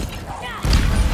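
The Incendio fire spell cast in the video game Hogwarts Legacy: a sudden, loud, low burst like a whooshing blast about halfway through, following a softer lead-in.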